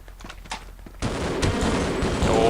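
Enemy gunfire in a first-person shooter video game, a sudden burst of rapid shots that starts after a quiet moment and continues as dense, loud crackling fire.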